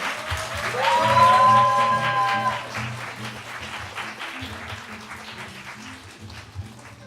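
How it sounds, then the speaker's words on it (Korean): Audience clapping to welcome a speaker at a self-esteem concert lecture, swelling early then tapering off, while a sustained musical tone and background chatter sit beneath it. "여러분 역시 큰 박수로 모셔보도록 하겠습니다"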